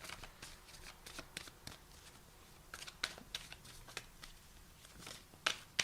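A deck of tarot cards is shuffled by hand, producing a continuous run of soft riffling flicks and snaps with occasional sharper slaps, quiet and close.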